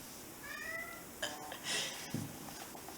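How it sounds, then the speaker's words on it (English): A pet cat named Oliver gives a couple of short, faint meows indoors, thin and slightly rising, against a quiet room hiss with no talking over them. "Are you being a meow meow, Oliver?"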